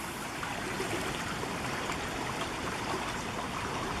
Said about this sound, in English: Water's really churning through here.